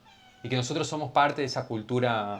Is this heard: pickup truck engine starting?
no